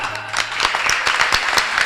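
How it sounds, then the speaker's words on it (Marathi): Audience clapping at a Marathi kirtan, scattered and uneven hand claps filling the room at moderate volume, with a few sharper individual claps standing out over the crowd. "आणि या टाळ्या कीर्तनासाठी नाहीयेत"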